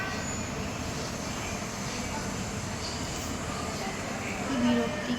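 Trains arrive at a busy railway station as a faint, distant rumble of rolling carriages under quiet background noise, with a soft swell near the end.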